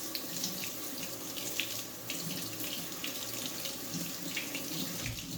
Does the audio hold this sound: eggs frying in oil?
no